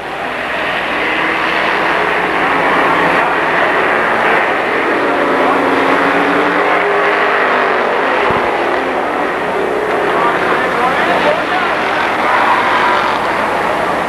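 Stock cars racing at Kil Kare Speedway under green flag, a steady loud broadband engine roar from a pack of cars running throughout, with a brief thump midway.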